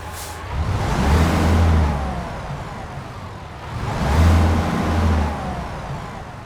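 A heavy International LT truck engine in American Truck Simulator cranks and roars to life, surging twice in loud swells before settling into a rumbling idle; no talking.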